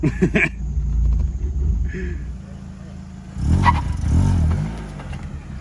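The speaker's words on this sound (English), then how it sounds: "Rev limiter, and then let go of the clutch." A Mazda Miata drift car's engine revs hard toward the rev limiter, a loud close rumble that swells after a quieter idle stretch, with brief voices near the start.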